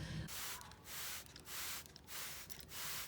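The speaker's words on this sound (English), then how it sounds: "I walk through every day and I spray cleaner on them," Four quick spritzes of cleaner from a spray bottle onto classroom seats, evenly spaced hissing bursts with brief pauses between, close and fairly quiet.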